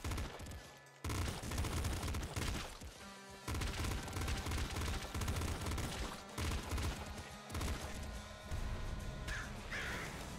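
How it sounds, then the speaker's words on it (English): Rapid pop-rifle gunfire from the video game Nuclear Throne plays as dense, loud bursts of shots over busy game effects and music, broken by a couple of short gaps. "Pop rifle."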